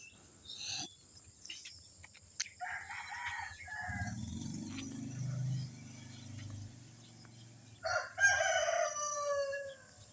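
Chickens on a small farm where crops are grown: a rooster crows in the distance over soft clucking and low background murmur, with a second, clearer crow near the end.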